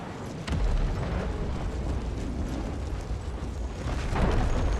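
Artillery guns fire in Empire: Total War during a battle at the Siege of Naples, a deep boom followed by sustained rumbling battlefield din and crackling, loud and continuous without talk.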